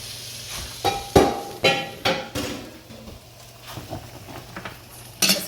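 Bean stew mixture goes into a metal pot and gets stirred, bringing a few sharp clanks and scrapes of a spoon against the pot, then softer scraping, sloshing and a final clatter.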